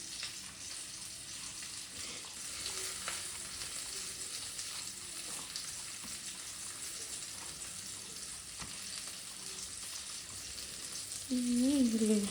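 Bangude (mackerel) fish frying on a hot tawa, a steady close hiss and crackle of oil throughout, louder near the end, with no talking.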